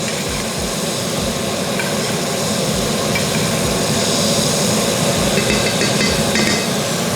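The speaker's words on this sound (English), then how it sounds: "you're gonna take the butter and you're gonna baste the steak" A boneless ribeye steak sizzles loudly and steadily in a pan while being basted with butter, with soft repeated thumps from the basting spoon under the constant hiss.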